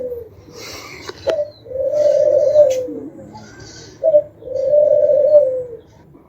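Pet pigeons give soft, repeated throaty coos close by, two drawn-out rolling calls with short gaps, over a faint low background hum.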